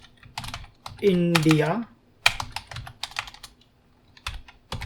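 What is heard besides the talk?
typing on a computer keyboard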